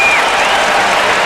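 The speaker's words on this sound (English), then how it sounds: "Listen to the crowd react here." Basketball arena crowd at a Denver Nuggets vs Chicago Bulls game reacting to a foul call, a loud, dense roar of cheering and applause that fills the whole moment.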